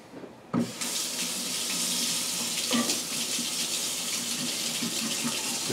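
A kitchen tap turns on and runs in a steady, close stream while something is rinsed in the sink, the flow gushing a little louder now and then.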